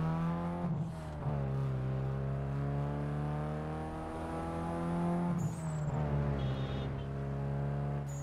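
Volkswagen Golf engine in Need for Speed Underground 2, a steady, full-bodied drone held close, shifting pitch a few times as the revs rise and dip, with no talk.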